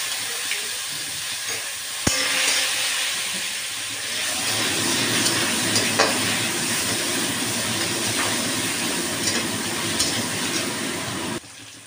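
Dried red chilies and mustard seeds sizzle loudly in hot oil, making a dense, steady frying crackle up close. A sharp pop or tap comes early, and the crackle goes on without a break.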